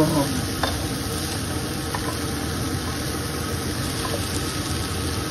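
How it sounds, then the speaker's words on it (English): Potato, corn and tomato fry in a pan with a steady, loud sizzle as a utensil stirs through them, a few light scrapes and knocks standing out over the constant hiss. "Give it a nice little stir here, mix things up"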